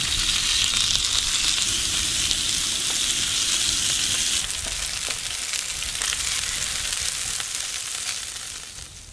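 Grocery-store hamburger patties frying in a pan give off a loud, steady, close sizzle that carries on without a break, with a few faint clinks, and fades a little at the end.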